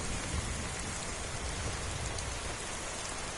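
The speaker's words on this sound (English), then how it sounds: "it's raining." Steady rainfall hisses over Falkreath in Skyrim, a continuous wash of drops spattering on surfaces, with a faint low rumble underneath and no one talking.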